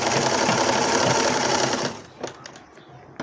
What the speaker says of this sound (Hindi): इस पर भी मजबूती के लिए इसको डबल सिलाई लगा लेंगे।